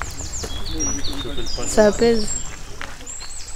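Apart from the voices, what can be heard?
birds chirping outdoors in a garden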